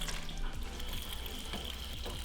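Water trickles and drips steadily inside a BMW E30 sedan, a continuous close splashing flow at a constant level with no voices.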